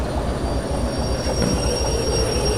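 A locomotive pulling wagons rolls along the track in the Derail Valley train game, with a steady loud rumble, wheel squeal and faint rhythmic clatter throughout.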